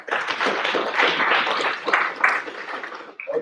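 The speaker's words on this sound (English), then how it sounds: "Please give a round of applause." Applause from the audience at a community conversation event in Arkansas, a steady dense patter of clapping that holds for a few seconds before tapering off near the end.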